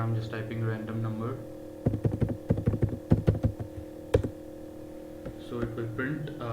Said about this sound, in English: Phone number, I'm just typing random number.